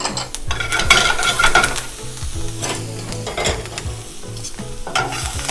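Onions, leeks, fresh chopped garlic, rosemary and thyme sizzle and fry in a pan while being stirred, with a steady crackle and repeated scraping strokes close by and no talking.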